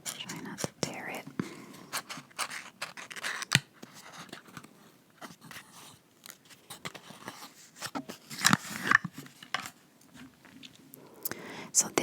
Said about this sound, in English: opening packages is really difficult with my nails these days